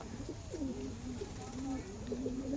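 Pigeons coo in soft, repeated rolling calls, close by and fairly quiet over a low background hum, with young birds from a pigeon set nearby.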